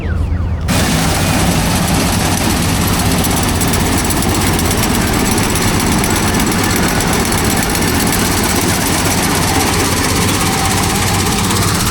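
A combine harvester's engine runs in a rice field with a loud, constant, rattling drone close by, steady from start to finish, and no voices.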